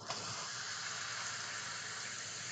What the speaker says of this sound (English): And then let's add some water as well.